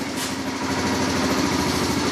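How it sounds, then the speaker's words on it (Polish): A Zipp Pro 50 scooter's small engine buzzes steadily after starting, a close, continuous high-pitched putter with a brief start burst at the beginning, no talking. "Uruchamiamy silnik"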